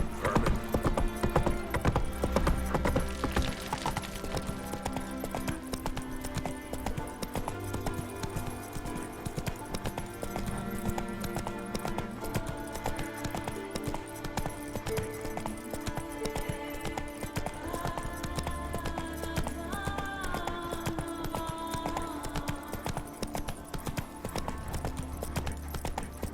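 Roach, a horse in the video game The Witcher 3, gallops with steady clip-clop hoofbeats throughout, set against a continuous music and ambient game soundtrack, with an occasional whinny.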